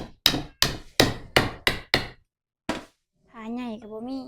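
A hammer pounding a large tilapia fish cut into chunks, seven sharp heavy thuds in a quick, fairly even rhythm, then a pause and one more blow, followed by someone speaking.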